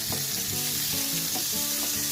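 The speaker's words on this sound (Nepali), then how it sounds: "एकदमै लो फ्लेममा यसलाई भुट्दै जानु होला 1 मिनेट जति" Bodi beans fry with Kashmiri chili in a pan over a low flame, giving a steady close sizzle with faint stirring scrapes and no voices.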